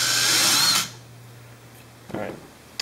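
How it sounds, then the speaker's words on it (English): Power drill boring into a G10 knife handle, a loud close whir for under a second that cuts off, leaving a low hum, then a brief clatter. "I'm gonna drill it just a tiny bit more."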